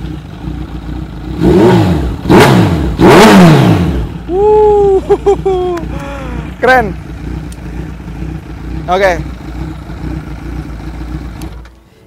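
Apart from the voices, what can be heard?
Kawasaki Z900 motorcycle with Austin Racing exhaust revving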